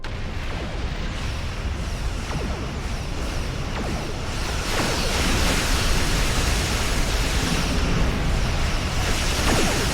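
Weapons fire and explosions pound enemy defense satellites in a Star Trek Online space battle, a dense, continuous roar of blasts with sharp bursts scattered throughout, swelling louder in the second half with no talk.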